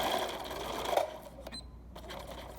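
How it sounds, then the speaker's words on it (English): A sewing machine stitches around the edge of a minky fabric blanket, a faint mechanical whir that stops and starts in short runs with small clicks between them. "And I'm just going to sew the entire way around this."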